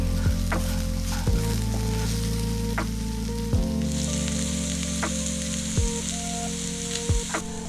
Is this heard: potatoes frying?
yes